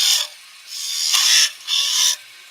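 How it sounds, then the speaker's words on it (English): A skew chisel marks V-cuts into spinning wood on a lathe, giving three separate hissing, scraping strokes, each lasting about half a second, close up and fairly loud with no talk. "to mark out with the skew tool"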